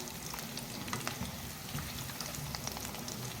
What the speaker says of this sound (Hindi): कबाब हमारे मीडियम फ्लेम पर फ्राई हो रहे हैं।